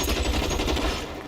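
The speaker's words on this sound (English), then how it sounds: "Okay, somebody's shooting." Rapid gunfire bursts in the video game L.A. Noire, a quick run of close, punchy shots that fades and ends with one last faint report.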